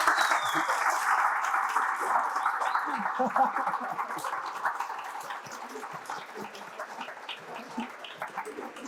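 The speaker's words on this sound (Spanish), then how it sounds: "Y un fuerte aplauso a Carlos" Applause for Carlos at the opening of his design exhibition in a gallery hallway, a modest crowd clapping, fairly faint and thinning out toward the end.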